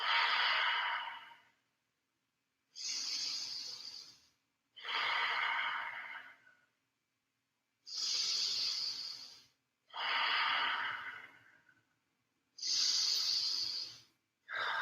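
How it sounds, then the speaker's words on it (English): Slow, deep breathing during a yoga session: seven long audible breaths, each a loud airy rush with quiet pauses between, close and steady in rhythm, with no talking. "Take 4 rounds of your breath here"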